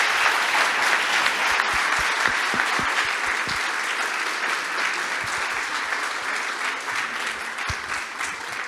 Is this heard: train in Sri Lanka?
no